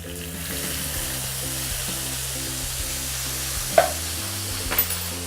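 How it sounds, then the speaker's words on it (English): Tomato goes into a pan of cooked guanciale for amatriciana, setting off a steady close sizzle with a few sharper clinks or pops near the end. "Now we're going to add our tomato straight to the pan."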